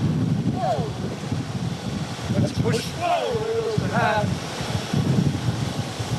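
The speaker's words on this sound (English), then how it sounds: "Want to know what it's like to be inside a hurricane?" Hurricane Milton's wind gusts during landfall, a constant low roaring buffet on the microphone with people talking over it throughout.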